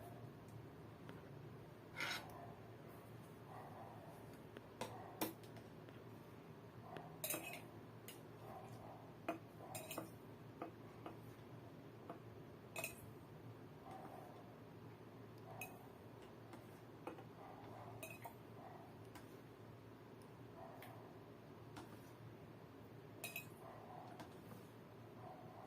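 Small clinks and ticks of a spoon against a cup as water is spooned from one cup into another for a concentration experiment, a scattered run of light, faint taps over a quiet room hum.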